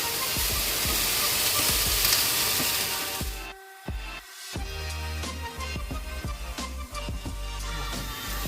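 Shredded cabbage hits a hot pan with carrots for spring roll filling, giving a loud, broad sizzle that cuts off briefly, then returns as lighter frying crackle with scattered stirring clicks and scrapes.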